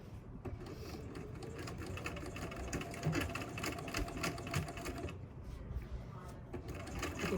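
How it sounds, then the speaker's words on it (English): A sewing machine stitches a quilted romper in quick, steady bursts of mechanical chatter with brief pauses, fairly quiet and close in a home sewing setting. "You can hear Gabby still sewing away on her romper"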